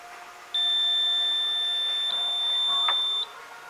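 Safeline drop-through metal detector sounding a steady, loud electronic alarm tone for about three seconds as a stainless steel test ball passes through, with a faint click near the end and no talking.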